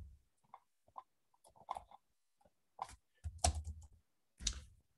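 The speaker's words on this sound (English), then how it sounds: "typing in" Computer keyboard keys being typed during bookkeeping data entry, heard as a few scattered, quiet clicks and short bursts of tapping separated by pauses.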